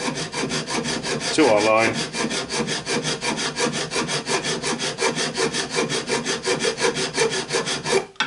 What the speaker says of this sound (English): We're just going to sit the file on top of the piece of steel, and basically we're just going to bring this down